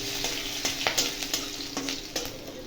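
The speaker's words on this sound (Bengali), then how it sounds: "এরপর ওই তেলের মধ্যে দিয়ে দেবো সর্ষে, দিয়ে দেবো এখানে শুকনো লঙ্কা, দিয়ে দেবো 8-10টা কারি পাতা।" Mustard seeds, dried red chillies and curry leaves crackle and sizzle in hot oil for a Bengali-style kadhi pakora tempering, with sharp irregular pops over a steady close fry and no voices.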